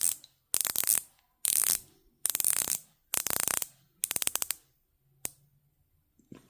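A Christopher Ward watch bezel turned in several bursts of rapid ratcheting clicks, about six separate runs with short pauses between them, close up and crisp with no talking.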